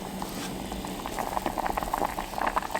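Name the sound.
shiitake mushroom rice soup boiling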